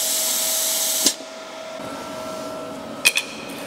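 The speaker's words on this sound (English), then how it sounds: "We have an air control feature. It just turns the air on." Compressed air rushes from the torch of a CutSkill 35 plasma cutter in a loud, steady hiss lasting about a second, then cuts off abruptly, leaving faint background hum and a couple of brief clicks.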